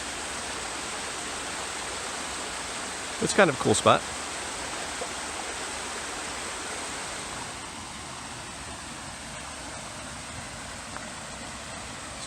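Water rushes steadily in a loud, continuous roar, with someone briefly speaking over the torrent partway through.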